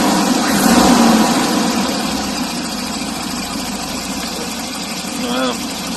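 A Volvo 740 turbo engine idles with a steady, loud rumble and a rattling knock running through it, close by, while people talk over it.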